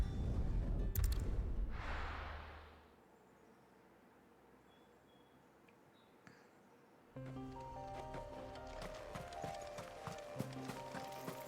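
Horse-like creatures in Final Fantasy XVI clatter with loud hoofbeats for a couple of seconds, then everything drops to a quiet lull before game music with bright tones starts up.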